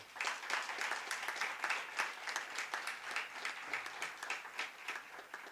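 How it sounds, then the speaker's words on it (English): Audience applause fills a scholarship awards ceremony at a university college, steady and moderately loud with dense overlapping claps, holding evenly throughout without any talk. "Ladies and gentlemen, I think this deserves another round of applause."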